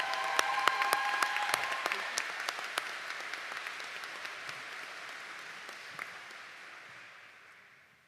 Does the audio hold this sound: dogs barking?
no